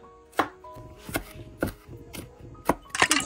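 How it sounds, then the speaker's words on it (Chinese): A knife chops chili peppers on a board in about six crisp, close strokes at an uneven pace, with a quicker cluster at the end. "切两个辣椒"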